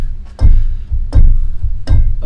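Keyboard notes played in a short staccato rhythm, three punchy low-pitched hits at an even pace, loud and close with no talking.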